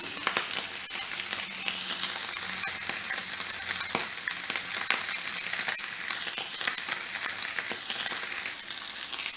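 Steak sears seasoned side down in a hot pan, a loud, steady, close sizzle and crackle that carries on without a break and with no talk over it.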